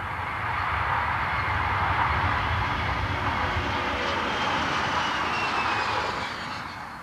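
A jumbo jet roars through a takeoff run on a test flight with its tail skid scraping the runway, the engine rumble loud and sustained before easing slightly at the end.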